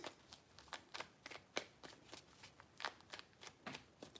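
Tarot cards being shuffled by hand in a quiet room, a close, soft series of quick riffling flicks and taps in irregular bursts, alone and faint.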